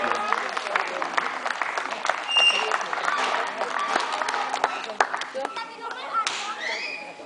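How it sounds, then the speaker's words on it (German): Audience applauding a sports team, a dense mix of many hands clapping with scattered sharp claps, steady and fairly loud for several seconds, with some crowd voices mixed in. "Bitte mal Applaus für die Mannschaft."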